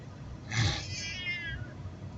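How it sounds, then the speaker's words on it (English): A cat on the way to the vet gives one drawn-out, wavering meow, moderately loud over a low background rumble. "I got 3 cats I'm taking to the vet."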